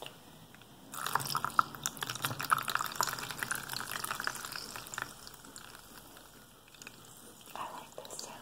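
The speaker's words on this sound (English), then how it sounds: "squeeze all of the water out just so you can use it" Wet squishing and dripping as water is squeezed from a makeup sponge, a close, continuous crackly trickle that fades toward the end.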